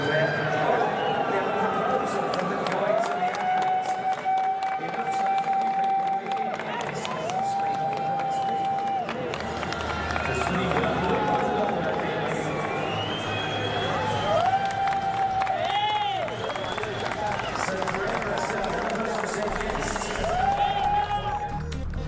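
A crowd at an athletics event claps and cheers as a Cape Verdean athlete proposes to a teammate. The roar is broad and sustained, with shouting voices rising over it throughout.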